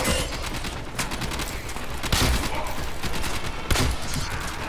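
Loud, sustained gunfire in the game Warframe, rapid shots blending into a dense fusillade with a few heavier cracks standing out.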